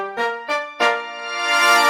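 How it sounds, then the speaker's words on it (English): A brass-style horn and trumpet part from a song, synthesized with a TPS module, plays sustained harmonic-rich chords in three swelling attacks, the last one held and brightening, clear and alone with no talking. "then we have this trumpet, these horns that sounds like this"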